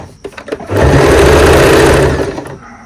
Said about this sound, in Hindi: और अब हमने इसके पूरे राउंड में इसी तरह से सिलाई लगा लेनी है।